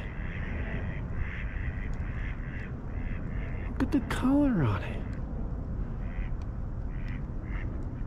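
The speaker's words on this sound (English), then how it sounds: "Look, it's quacking right now." A rare-looking duck on a lake in fall gives a short burst of quacks in the middle, heard over outdoor background noise while a person talks.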